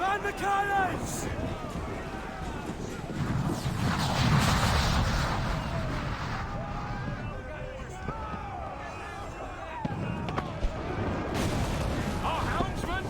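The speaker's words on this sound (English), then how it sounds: "Man the cannons!" Heavy booming ship cannon blasts in the Assassin's Creed IV: Black Flag video game go off amid shouting voices and chaotic naval battle noise, with several explosive bursts over a busy, loud game soundscape.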